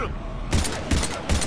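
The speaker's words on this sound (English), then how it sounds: "We're taking heavy fire." Gunfire in the Mass Effect 3 video game during a firefight against husks near the Normandy: three sharp, loud bursts of shots spaced about every 0.4 seconds over a steady background rumble.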